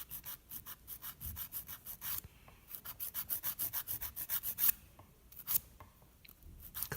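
Buffing down acrylic nails by hand; quick, regular rubbing strokes in bursts, close and fairly quiet, with brief pauses and light handling noises between them.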